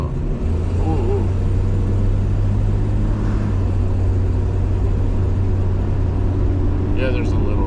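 A steady, rumbling engine drone fills the cabin of a Dodge Dart as it is driven on the road, holding a constant low hum throughout, with brief voices heard faintly underneath.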